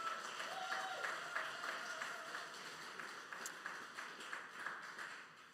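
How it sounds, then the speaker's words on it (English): Church congregation clapping at a service, a steady patter of many hands sustained throughout and slowly fading toward the end. "I am thinking I know who those claps are for."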